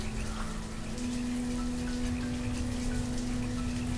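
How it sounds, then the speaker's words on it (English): Rain weather effect in the city-building game Banished, a soft steady hiss of falling rain with faint patter, continuous and low in level, with no voices over it. "There's different weather effects, like there's rain."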